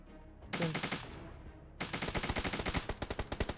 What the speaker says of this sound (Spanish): Están disparando de ahí.